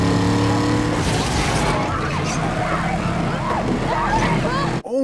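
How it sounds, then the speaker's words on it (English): Car engines roar and tires screech through a stunt chase in the 2007 movie Death Proof, a loud, steady rush of motor noise with wailing pitch swoops, overlaid with a person talking excitedly. "the car stunts and everything in this are so sick"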